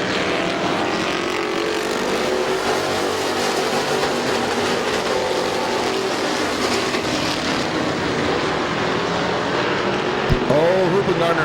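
Stock cars race around the Midvale Speedway oval, a continuous loud roar of engines filling the track with dense broadband noise throughout, a brief sharp knock near the end, with an announcer's voice calling the race over it.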